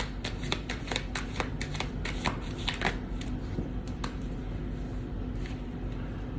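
Tarot cards shuffled continuously, with rapid papery riffles and soft flutters up close, steady and unbroken for several seconds.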